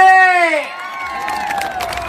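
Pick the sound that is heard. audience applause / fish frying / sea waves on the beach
audience applause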